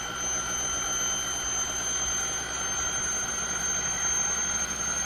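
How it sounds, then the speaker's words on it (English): Stepping motor spinning at over 3,800 RPM, giving off steady high-pitched tones over a constant whirring hiss, close and loud, holding unchanged throughout with no speech. "The stepping motor makes the high-tone noises."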